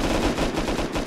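Rapid gunfire in the video game Unturned rattles in a quick string of closely spaced shots, loud and near, alone with no talk.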